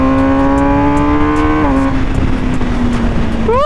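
A 2020 MV Agusta Brutale 1000RR motorcycle engine hums at a steady pitch, then dips abruptly on a downshift and settles lower before rising again at the end, loud and close with wind noise and no talk.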